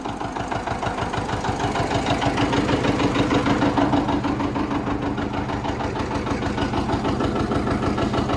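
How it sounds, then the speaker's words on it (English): An old John Deere 730 tractor engine, pull-started and running, chugs in a steady, rapid, loud knocking rhythm close by with no voices. "we're gonna pull start it and I'll run it around a little bit and see what's wrong with it"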